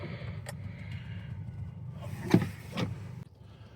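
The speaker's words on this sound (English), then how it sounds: "Let me adjust my seat here so it'll be easier for me to continue doing the tour." Power seat motor in a 2025 Acura ADX A-Spec Advance whirring in short bursts inside the quiet cabin, with faint clicks and a few soft thumps as the seat moves and stops.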